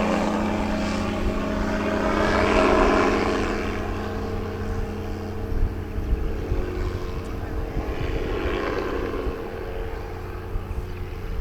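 A microlight aircraft's engine drones steadily in flight, a loud, continuous propeller buzz that swells slightly then holds level, heard close from inside the aircraft with wind noise and no voices.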